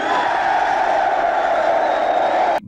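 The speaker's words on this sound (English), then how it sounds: "Boppers young and old shout cheers and applause" Dense crowd of young and old people shouting cheers and applauding, a loud, sustained roar of voices that cuts off abruptly at the end.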